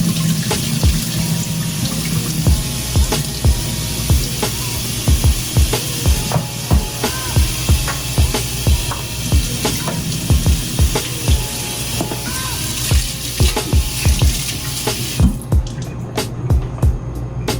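Tap water runs steadily over pigeon peas being rinsed in a sink for a Jamaican gungo rice and peas dish, with repeated close clatters and knocks of the peas and bowl against the basin, no talking.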